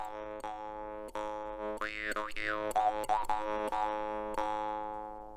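A drimba, the Ukrainian Jew's harp, twangs a steady metallic drone, with plucks every second or so and mouth-shaped vowel-like sweeps of overtones, close and fairly quiet, with no voices.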